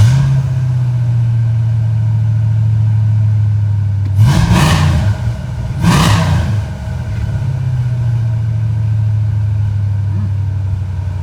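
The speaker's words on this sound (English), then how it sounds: "Let's roll the window down so you can hear it with the new Flowmaster 10s." A 1994 Ford Mustang GT with the 5.0 V8 and Flowmaster 10 mufflers idles with a steady, lumpy low rumble, broken by two sharp throttle blips that rev up and settle back to idle.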